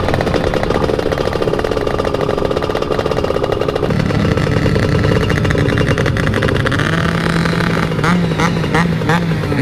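Loud, steady motorcycle engine fitted with a Cosmo Racing Speed exhaust, droning continuously with a pitch shift midway and rattly revving toward the end, close to the listener.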